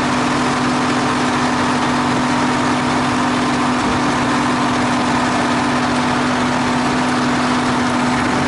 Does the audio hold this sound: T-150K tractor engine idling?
yes